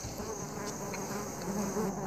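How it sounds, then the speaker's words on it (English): Bees roused from a hive deep inside a marula tree swarm with a steady, close insect buzz that holds level throughout, with no voices. "His pawing and scratching at the entrance arouses the bees."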